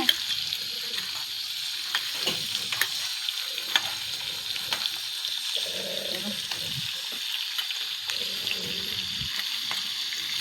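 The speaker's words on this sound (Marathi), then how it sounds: "मस्त कांदा फ्राय झाला, गरम गरम तेल झालं" Onion frying in hot oil in a farmhouse kitchen, a steady close crackling sizzle with occasional stirring clinks and scrapes throughout, no voices.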